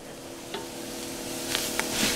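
Chicken chunks are stirred into a pot of chicken and rice soup, making a soft, bubbling simmer with a few light scrapes and clinks of the spoon against the pot.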